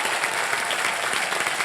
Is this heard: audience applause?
yes